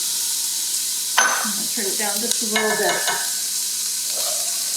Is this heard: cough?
no